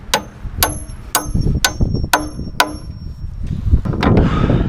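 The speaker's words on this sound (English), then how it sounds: "Put the nail in on an angle like that, and it'll drive it in on an angle, and it'll bring it tight into that corner." Hammer blows driving a nail at an angle into a metal joist hanger bracket on tiny house floor joists, six sharp ringing strikes in steady rhythm, close and loud, followed by quieter handling noise.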